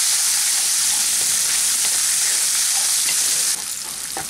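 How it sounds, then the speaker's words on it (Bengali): Gobindobhog rice frying in a pan with cinnamon, cardamom and bay leaf, a loud, dense, steady sizzle held close throughout, easing slightly near the end, with faint stirring and no voices. "এখন আমি এর মধ্যে গোবিন্দভোগ চালটা দিয়ে দেব এটাকে আমি এক দেড় মিনিট একটু ফ্রাই করে নিচ্ছি"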